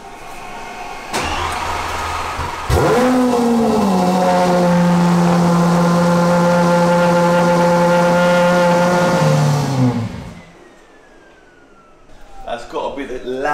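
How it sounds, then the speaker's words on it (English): A Lamborghini SVJ fitted with an aftermarket exhaust cold-starts with a sharp bark, then settles into a very loud, steady high idle that drops in pitch before the engine cuts out. A voice briefly reacts. "the loudest cold start we've ever done"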